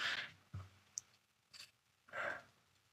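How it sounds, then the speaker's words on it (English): A dog's leg joint clicking, with a sharp low click near the start and a brief tick a moment later, set among soft breathy sighs in a quiet room. "my dog's leg is clicking because he refuses to sit down"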